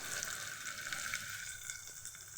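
Onions and green chillies frying in oil for godhuma ravva upma, heard as a soft, steady sizzle with faint stirring, fairly quiet throughout.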